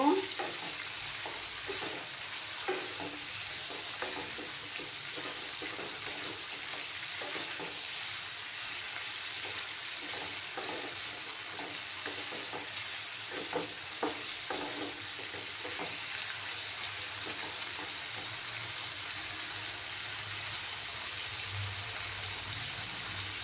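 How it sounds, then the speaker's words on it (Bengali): Pabda fish curry with turmeric being stirred in a frying pan, a steady oily sizzle with soft scraping strokes running throughout at moderate level. "হাফ চামচের মতো হলুদ গুঁড়ো দিয়ে দিলাম। দিয়ে ভালো করে নাড়াচাড়া করে নেব।"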